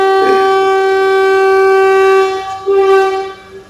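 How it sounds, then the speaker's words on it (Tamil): A MEMU passenger train sounds its horn at Yesvantpur Junction on the Devanahalli Airport to Hosur run, a loud sustained harmonic blast that holds for over two seconds, breaks briefly, then sounds again, heard up close with no talk. "சாரி ஹாரன் அடிக்கிறாங்க"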